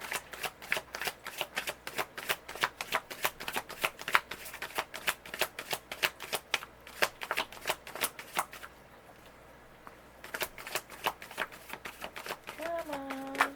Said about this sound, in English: They want to be shuffled more.